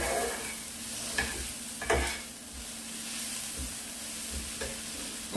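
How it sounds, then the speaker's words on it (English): Food sizzles in a cooking pot while a spoon stirs it, giving a few clattering scrapes over a continuous frying hiss and a faint low hum; no speech. "So I stir it all well."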